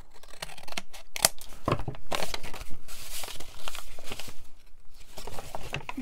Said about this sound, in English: Oh, probably need to trim that edge. Yep, I'm going to do it with the scissors though